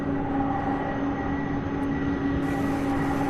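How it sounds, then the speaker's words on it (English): A UPS Airbus A300 rolls at Louisville International Airport, giving a steady, loud jet engine roar with a tonal whine that holds for the whole short stretch. "This A300 on your screen right now heading to Billings, Montana."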